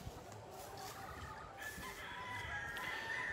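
A mother hen clucks and calls faintly, somewhat distant, over a low steady background hum.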